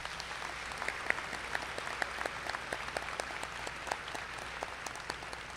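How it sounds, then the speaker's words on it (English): A round of applause for honor graduates at a 2024 high school graduation ceremony, with scattered sharp individual claps standing out above a steady mass of clapping from a large audience. "Let's give these honor graduates a round of applause."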